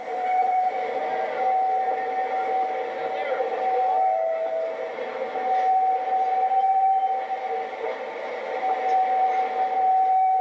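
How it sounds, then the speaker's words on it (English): A Roaring Camp railroad train climbs a switchback grade toward the top of Bear Mountain in the redwood forest. A steady mechanical drone with a sustained whistle-like tone runs the whole time, close and even in loudness. "the train once again reverses itself and continues forward up the grade to the top of Bear Mountain"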